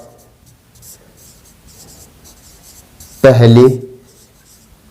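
Faint, intermittent scratching of a marker or chalk writing a math solution on a board, soft strokes through a quiet room before someone briefly speaks.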